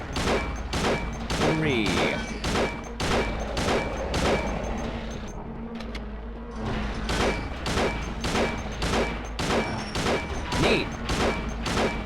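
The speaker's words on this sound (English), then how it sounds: "It's like a bunch of bullets." Rapid, dense bursts of gunfire from a Silent Hill video game, loud and repeated throughout with a brief lull midway, while a voice talks over the shooting.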